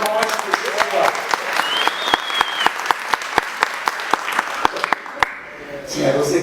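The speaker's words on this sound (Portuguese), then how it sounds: "Aliás, prêmio Camões para o Chico, aplausos." A crowd applauds for Chico, the clapping running under loud rhythmic sharp beats, likely rhythmic hand claps, with a brief vocal tone mid-way and talk resuming at the end.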